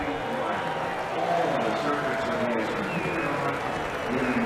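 Large crowd at the Indianapolis 500 IndyCar race cheering and applauding in a dense, steady roar that fills the whole stretch at constant loudness, with scattered voices mixed in.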